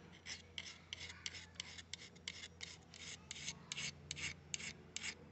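A metal file rasps slowly across the sharp edge of a garden shears blade in about a dozen regular, even strokes, close by but fairly quiet.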